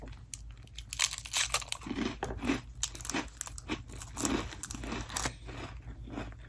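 Up-close crunching and chewing of a Biscoff cookie, with irregular crisp bites and mouth sounds repeating over several seconds and no talking.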